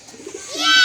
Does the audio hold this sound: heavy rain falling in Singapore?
no